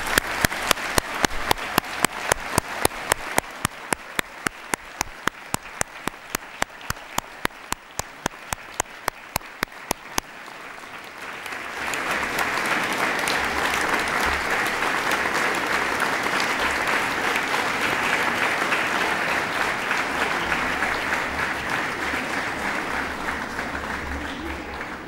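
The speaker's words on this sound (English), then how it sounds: "Let's give them a round of applause." Graduation ceremony audience applauding, starting as slow, evenly spaced individual claps before swelling into loud, dense, sustained applause from a large crowd that continues to the end.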